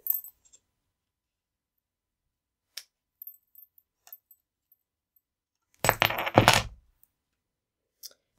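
Paper pieces being trimmed for a handmade thank-you card: a short burst of crisp cutting and rustling around the middle, with a few faint ticks and taps scattered before and after in an otherwise quiet room.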